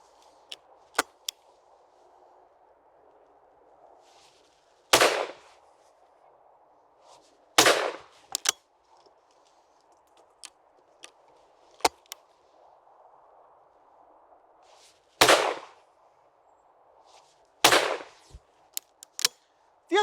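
An AYA side-by-side shotgun fired at game shooting practice: about six loud, sharp reports spaced a few seconds apart, with fainter distant shots and a steady background hum in between.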